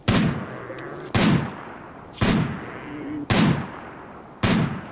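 Gunfire in the colony-building video game Rimworld: five sharp, loud single shots ring out at an even pace about a second apart, each with a short decaying tail.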